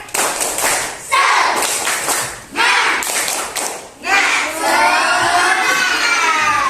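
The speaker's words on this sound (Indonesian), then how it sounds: "Kita tepuk semangat dulu." A school class performs rhythmic spirit clapping in bursts separated by short pauses, claps mixed with children's chanting and shouting voices, ending in a longer burst with excited cheering.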